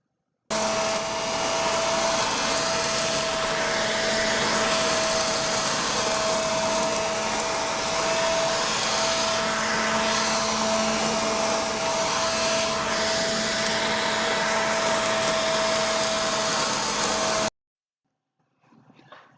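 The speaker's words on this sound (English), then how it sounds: "use a leaf vac to vacuum the leaves off the lawn before mowing" A leaf vacuum clearing leaves off a lawn roars steadily and loudly for a long stretch with a constant whine, then abruptly cuts off, leaving near silence and a faint rustle.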